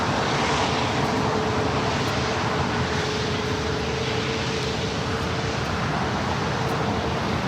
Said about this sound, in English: The Dreamliner now making a left-hand turn onto Bravo, will head to 25 right for a takeoff back to Tokyo Narita